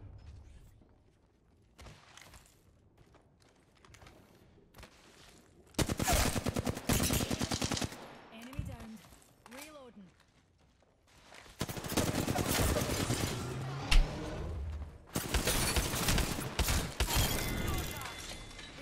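Gunfire from a weapon in Apex Legends, long rapid automatic bursts broken by short pauses and mechanical clicks, loud and close, with brief voices between the volleys.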